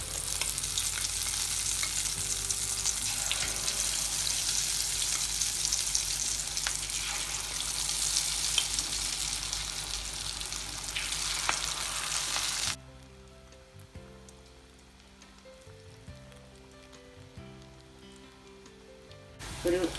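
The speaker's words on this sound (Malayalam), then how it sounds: "നമ്മൾ ഉരുട്ടി വെച്ച ഉള്ളിവട ഇതിലേക്ക് ഇട്ട് വറുത്തെടുക്കാം." Balls of Kerala-style onion vada batter drop into hot coconut oil and deep-fry with a loud, dense, continuous sizzle up close, which then quiets to a softer bubbling with occasional stirring clinks.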